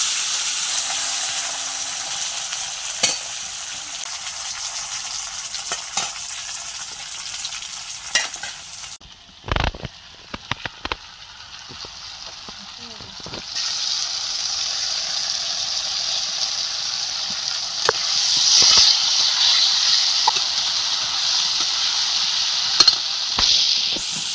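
Potatoes hit hot oil tempered with black cumin and dried chili for a taro and fish curry. A strong, continuous sizzle runs throughout, broken by a few sharp utensil clinks and stirring scrapes.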